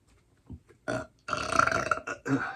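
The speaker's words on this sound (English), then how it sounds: "Coffee burp." Several loud, close burps after drinking dark roast coffee, a short one followed by longer, gurgling eructations in quick succession.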